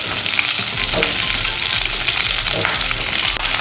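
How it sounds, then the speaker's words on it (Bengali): Spices tempering in hot oil for a winter vegetable and fish curry, a loud close crackling spatter that sputters continuously with occasional pops, with no one talking. "ফোড়নটা চড়বড় করে আওয়াজ হচ্ছে"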